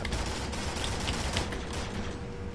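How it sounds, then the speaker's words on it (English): Laser gun firing in the shooter game Hypovolemia, a dense, rapid stream of loud zapping shots running steadily without a break. "somebody's got the laser gun"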